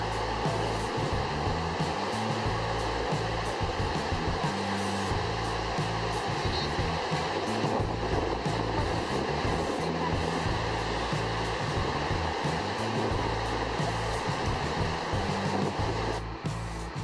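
Water discharging from a large dam spillway forms an artificial waterfall, a loud, continuous broadband roar that holds steady throughout with no breaks.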